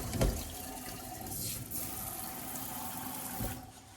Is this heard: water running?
yes